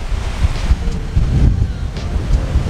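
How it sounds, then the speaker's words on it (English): Strong wind gusting across a lakeside beach, buffeting the microphone with a loud, rumbling roar and nearby surf mixed in, heard alone without talk. "wow, it's super windy out here"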